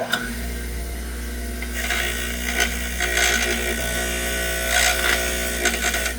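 Rust being scrubbed off the slide pins of a Ford Escape brake caliper with a hand tool during a brake job, a steady close scraping and rubbing over a constant low hum, swelling in a few harder passes.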